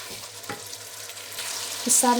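Turmeric, salt and crushed red chili roast together in a hot pan, a short close sizzle with light stirring scrapes that ends in a brighter burst of frying.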